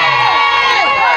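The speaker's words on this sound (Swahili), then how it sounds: "shangwe na vigegele" Crowd at a CCM political rally cheering and ululating, a loud, dense burst of shrill overlapping voices close by and continuous.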